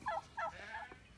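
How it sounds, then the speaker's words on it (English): Harsh, clipped guinea hen calls come in a quick series of about three squawks, faint and somewhat distant, with no other sound around them. "That one stupid guinea hen."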